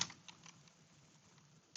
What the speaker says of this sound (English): I would just type in docker dash compose